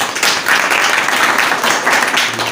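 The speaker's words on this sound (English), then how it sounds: "Okay, so please clapping for Ayushi." A crowd applauding together, a dense, even patter of many hands clapping at once, fairly loud and steady throughout.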